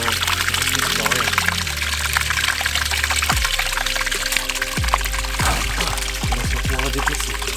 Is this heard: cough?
no